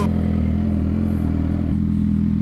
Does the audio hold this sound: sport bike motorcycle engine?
yes